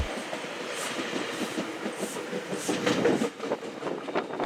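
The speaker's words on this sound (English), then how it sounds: "It looked like it was going to overshoot the platform, judging by how fast it was coming in" A commuter train rumbles fast into a platform with steady rail noise and rhythmic clatter of wheels over track joints, loud and close throughout.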